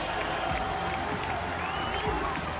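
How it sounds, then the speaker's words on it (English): A large arena crowd in France cheers and roars continuously at the MSI 2018 League of Legends esports grand final, a dense, loud, sustained wall of voices and clapping with a commentator talking over it. "Listen to France as they are cheering for Uzi."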